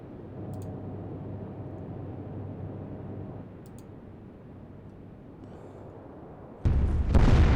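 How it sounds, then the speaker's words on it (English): A secondary explosion erupts aboard an enemy warship in the naval strategy game Atlantic Fleet. A deep, sudden boom bursts in loudly near the end, following a long stretch of low rumbling ambience. "Wasn't expecting to see a secondary explosion like that."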